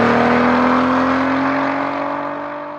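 A VW Passat R36 with its 3.6-litre VR6 engine holds a loud, smooth, sustained howl that eases slightly lower in pitch and fades a little toward the end.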